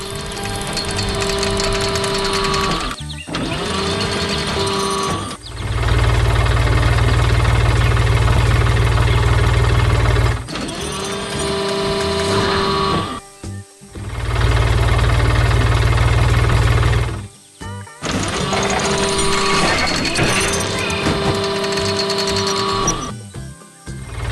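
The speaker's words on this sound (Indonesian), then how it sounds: "Lihat traktor biru yang sedang bekerja keras di tengah kebun bunga yang ceria" A blue tractor's mid-sized engine runs steadily with a rough, rattling chug, its low rumble swelling loudly in two long stretches before dropping back.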